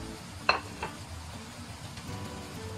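Green peppers go into eggplant simmering in a reduced sauce in a pan. A sharp clink sounds near the start, then a soft, close sizzle continues with no talking.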